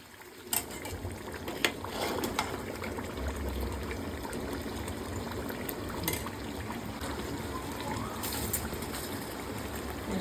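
Hot, boiling water poured into a pot of 1 kg soaked rice cooking in oil for chicken biryani, a steady liquid rush and bubbling with a few clinks, close and continuous without talking.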